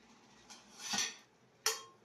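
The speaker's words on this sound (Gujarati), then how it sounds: "પેલા વાસણો સાફ કરી દેશી." Metal cooking pots and spoons are handled during washing. Two short, bright clinks and clatters sound up close against a quiet background, with no talking.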